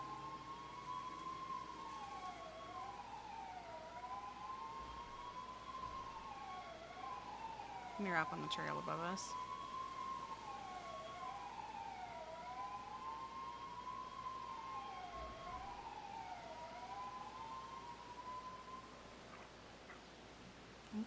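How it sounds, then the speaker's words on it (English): Several sirens wail in long rising and falling sweeps, steady and fairly loud throughout, with a brief burst of higher tones midway and a voice speaking over them. "That's a lot of sirens."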